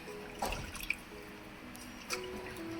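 Banana flower being rinsed in a vessel of water, with faint, sparse drips and soft splashes close by in a quiet room.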